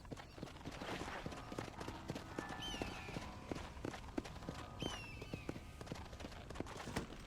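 Horse hooves clip-clop at a steady walking rhythm in Red Dead Redemption, fairly quiet, with a few faint whistling and ambient tones in the background.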